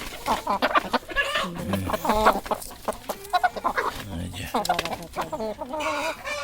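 Hill chickens, hens and roosters, cluck in a rapid, irregular series of close calls, with voices talking in the background.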